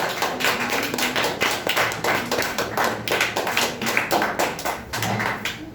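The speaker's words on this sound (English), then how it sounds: "Clap for Anya." Audience at a public speaking competition clapping for a young speaker, a steady dense patter of many hands, fairly close and continuous throughout without pause.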